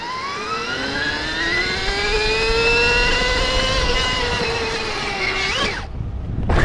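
A Stark Varg electric motorcycle accelerates with a rising, smooth electric whine layered in steady harmonic tones, loud and close, climbing in pitch for several seconds before dropping off abruptly.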